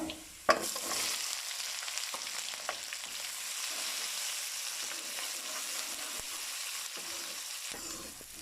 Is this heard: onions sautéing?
yes